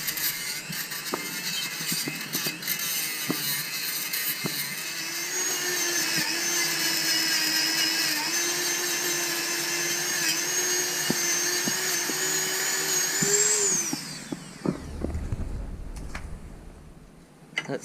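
A Dremel rotary tool fitted with a flap wheel grinds on a motorcycle exhaust baffle during a budget bobber build, a steady loud high whine with varying pitch that runs for about fourteen seconds before cutting off and winding down.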